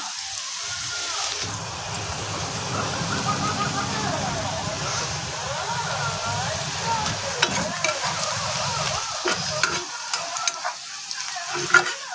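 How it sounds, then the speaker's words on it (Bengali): Onions fry and are stirred in a pan for spicy tomato chutney, a steady close sizzle with scraping spoon strokes that grow sharper and more clattery toward the end. "একটু লাল ভাজতে হবে।"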